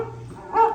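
A dog gives a single short bark or yip near the end, moderately loud over a quiet background hum.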